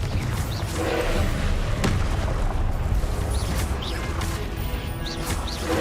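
A Confringo spell explodes in the video game Hogwarts Legacy, a sharp blast and crash amid dense, loud, continuous battle noise.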